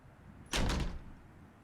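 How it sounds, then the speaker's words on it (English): A door slams shut once, a single loud, close thud with a brief rattling tail that dies away into quiet. "Without a warning, the door behind us slams shut."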